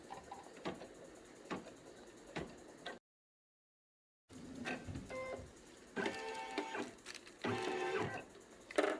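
An embroidery machine stitches down fabric with quick mechanical ticking and whirring in irregular bursts, broken by a brief silent gap partway through and growing busier toward the end.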